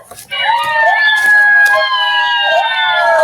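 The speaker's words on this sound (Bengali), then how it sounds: "তো শিয়ালের ডাক দিয়ে দিয়ে সে একটা মজা হবে" A children's electronic talking book plays a fox call: a loud, wavering, howl-like electronic tone with sliding pitch that holds for about three seconds after a brief quiet start.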